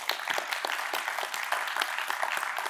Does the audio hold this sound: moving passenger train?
no